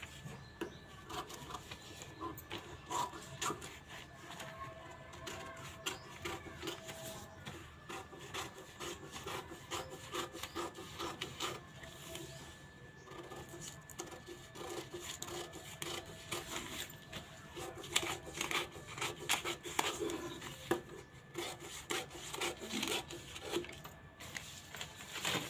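Scissors cutting fabric for a katori blouse, a steady run of close, crisp rubbing snips throughout with no talk.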